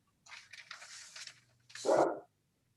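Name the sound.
dog barking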